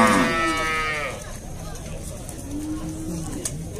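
At a cattle fair in Dois Riachos, Alagoas, a cow or calf lets out a loud, drawn-out moo up close, followed by fainter lowing amid crowd noise and someone talking.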